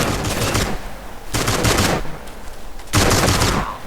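Gunfire in a GTA video game battleground comes as loud rapid automatic bursts in three volleys, dense and continuous with brief lulls between them.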